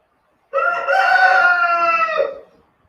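A rooster in a painting studio in Urubamba crows once up close, a loud harmonic call lasting about two seconds that rises and then trails off into silence.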